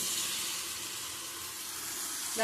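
Sweet paniyaram batter hits a hot multi-well pan and sizzles in a steady, broad hiss that stays even throughout, close and fairly quiet, with no voices.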